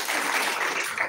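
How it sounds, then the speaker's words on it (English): Brief burst of audience clapping for a school class president at a Ugandan event, a dense patter of many hands heard close and alone. "You clap for your president."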